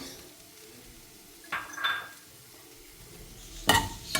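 A spoon stirs paneer and sweet corn in a pan for a paratha filling, giving a few soft scraping and clinking strokes, one around the middle and a louder cluster near the end, over a quiet background.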